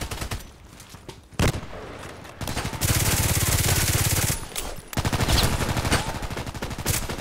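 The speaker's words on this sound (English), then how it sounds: "Why is he shooting at me?" Rapid video-game gunfire from a multiplayer match in Contract Wars, loud, dense bursts of automatic shots with a sharp single blast and short pauses between volleys, no talk.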